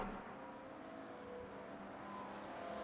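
A Porsche race car at Fuji on the start-finish straight, a faint continuous engine drone that swells slightly near the end, heard distantly with no voices.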